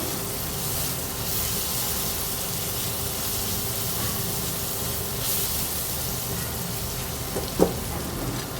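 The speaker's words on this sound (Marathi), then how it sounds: "हळद, अगदी थोडे लाल तिखट हे मिक्स करून परतून घेऊया." Turmeric and a little red chili powder sizzle in a pan with tomato while sautéing, a steady close hiss that runs evenly throughout with one brief clink near the end.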